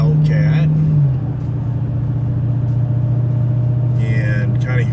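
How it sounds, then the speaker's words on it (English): A muscle car, a Mustang or Hellcat, cruising a country road with a steady low exhaust drone and rumble heard from inside, a pitch shift near one second, while a voice talks over it at times. "And kind of hear the exhaust"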